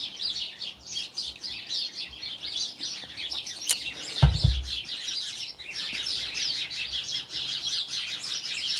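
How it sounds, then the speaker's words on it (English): Several birds fight in a tree, chirping and tweeting rapidly and continuously in a busy, squabbling chorus, fairly close, with a brief low thump midway. "there's birds fighting in the tree, so I apologize if that's loud"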